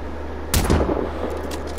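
A sniper rifle fires a single sharp, loud shot in the Sniper Ghost Warrior Contracts video game, cracking out of a steady low background hum and trailing off in a brief echo.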